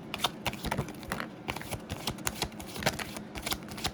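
A deck of tarot cards is shuffled close up in a continuous, fast patter of riffling and sliding card edges, with no voices.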